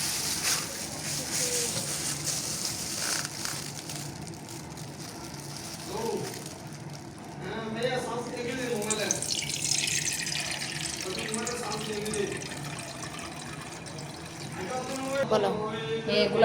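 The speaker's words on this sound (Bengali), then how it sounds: "আমি পানিটা ছেঁকে নিয়ে নিচ্ছি" Coconut water is strained through a sieve, giving a steady pouring trickle and splashing into a container with faint clinks, and a voice talks over it at times.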